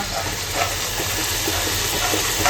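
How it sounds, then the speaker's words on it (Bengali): Soybean mince frying in a pan gives a loud, steady, close-up sizzling hiss that fills the whole moment without pause. "হালকা হালকা করে ভেজে নেব এখানে চলছে একদম"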